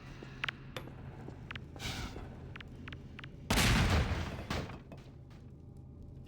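Explosions in Half-Life 2 break stone pillars: a few sharp game bangs and crumbling debris bursts, one big blast midway followed by rumbling decay, at moderate loudness with no talk.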